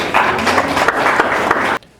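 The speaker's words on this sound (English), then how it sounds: "A round of applause for that." A burst of applause from a school audience at a secondary school tech quiz competition, dense steady clapping for under two seconds that cuts off abruptly.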